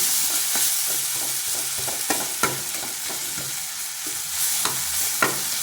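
Green chillies sautéing in a pan for a vendakkai pachadi, a steady loud sizzle with periodic spatula scrapes and taps against the pan as they are stirred.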